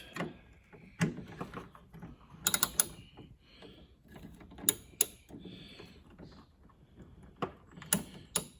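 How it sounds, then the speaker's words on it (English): A ratchet clicks in short bursts while removing a bolt from the sliding door track of a 2008-2016 Chrysler Town & Country or Dodge Caravan minivan, with scattered sharp metallic knocks and taps between quieter handling noises, close by. "So there's one bolt down here that I'm taking off."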